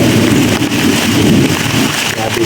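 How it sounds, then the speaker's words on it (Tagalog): Heavy rain pours steadily and loudly throughout, a dense roaring wash with some wind buffeting the microphone. "sobrang lakas ng ulan"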